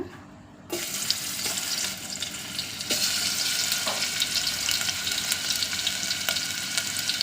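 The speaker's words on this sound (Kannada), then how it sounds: "ಇದು ಸ್ವಲ್ಪ ಮೂಳೆ ಥರದ್ದು ಎಲ್ಲ ಅದನ್ನು ನಾವು ಎಣ್ಣೆಯಲ್ಲಿ ಹಾಕ್ಕೊಬಿಡೋಣ" Mutton bone pieces drop into hot oil and fry, a sudden rise into a steady close sizzle with occasional pops and crackles, no talking.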